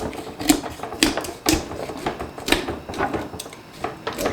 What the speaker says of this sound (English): Have to cut with the cleaver.